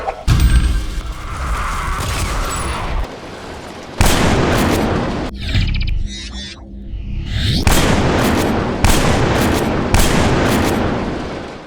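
Shotgun blasts from the Duke Nukem first-person shooter game fire in a series of loud, booming shots with heavy reverberant tails and a brief lull midway, dense and punchy throughout.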